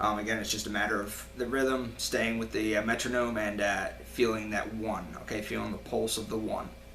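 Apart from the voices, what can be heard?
None of the usual background noises is heard.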